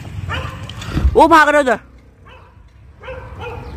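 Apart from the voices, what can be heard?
dogs barking while attacking chickens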